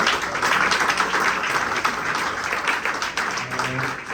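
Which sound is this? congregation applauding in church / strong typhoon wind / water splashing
congregation applauding in church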